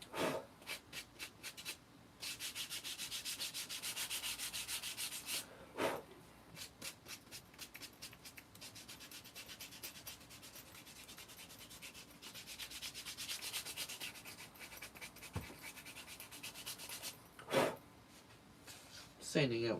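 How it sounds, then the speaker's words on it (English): Sandpaper rubbing over a craft bag in steady back-and-forth strokes, close and fairly quiet, with brief pauses and a few sharper scrapes between passes. "Sanding out nicely, actually."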